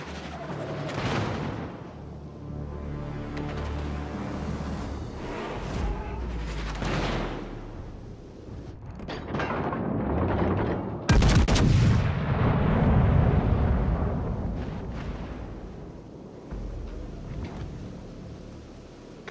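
Naval artillery salvos boom in World of Warships: Legends, with heavy gun blasts and rumbling shell impacts in loud, layered bursts, and a radio-style voice speaking between them.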